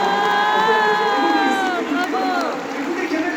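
Concert audience cheering at a tour show in Bordeaux, a loud crowd roar with high whistles and whoops held throughout the clip.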